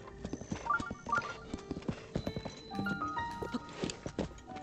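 In the Zelda: Breath of the Wild video game, a horse's hooves clip-clop in a quick, uneven rhythm near a stable, with a whinny among the steps.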